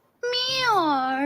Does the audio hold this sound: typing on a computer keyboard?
no